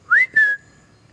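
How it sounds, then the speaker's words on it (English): A person whistles to call dogs: two short, bright rising whistle notes, the second held and trailing off, sharp and close in an otherwise quiet outdoor setting. "And watch this, just with a little whistle."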